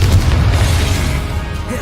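A Confringo blasting spell goes off in Hogwarts Legacy: a brief, dense boom with a low rumble and a noisy burst tail, loud and close, filling the short moment.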